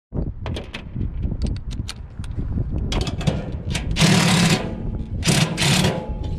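A cordless driver with an extension backs out two screws on a service call for a noisy unit, giving bursts of ratcheting whir and clicks against mechanical rattling, close and fairly loud.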